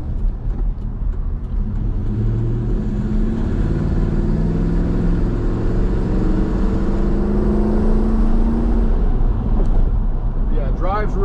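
A Hemi-powered car drives and accelerates, its engine drone rising and falling steadily with shifting tones, heard from inside the cabin under continuous conversation.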